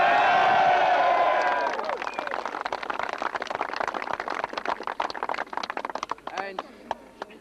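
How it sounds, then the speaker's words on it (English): Loud shouting voices give way to a burst of clapping and cheering from a crowd at a 2004 Limerick hurling final replay, many hands applauding at once, with voices carrying over it. "a round of applause"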